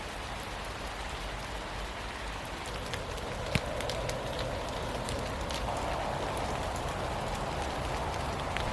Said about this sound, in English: So it might have just started raining